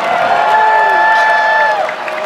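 Razorback fans roar at the 2012 Arkansas Primetime at the Palace dunk contest, a loud, dense arena cheer with a sustained whistle-like tone riding over it and a voice carrying through.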